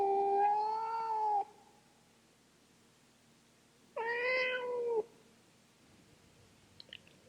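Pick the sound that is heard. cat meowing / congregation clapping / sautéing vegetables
cat meowing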